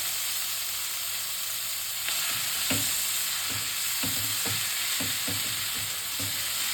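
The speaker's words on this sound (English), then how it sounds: "We will saute this just for half a minute." Chilies, curry leaves, saptige soppu greens and cooked dal sauté in a hot pan for a bassaru palya, a steady sizzling hiss broken by several soft scraping stirs and clinks of a spatula, with no talking.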